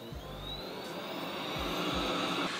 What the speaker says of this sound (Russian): Алиса, включи пылесос.